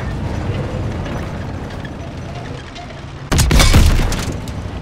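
In a Call of Duty WWII battle, a tank cannon shot strikes a Panther tank with a sudden loud boom and crack that cuts through a rumbling low engine drone, then a lingering roar.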